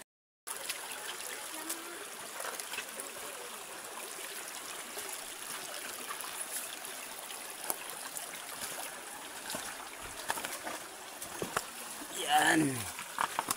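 A stream of water flowing near a waterfall during an outreach trip in rural Palawan, a steady low rushing and trickling wash that stays even throughout, with a brief louder splash or disturbance near the end.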